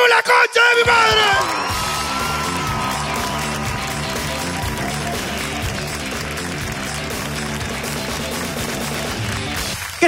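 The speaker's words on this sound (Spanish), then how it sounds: "¡Que siga el aplauso, que siga el aplauso, que siga el aplauso!" A studio audience at a Peruvian comedy show cheers, whoops and claps in a loud, dense, continuous roar that swells at the start and then holds steady.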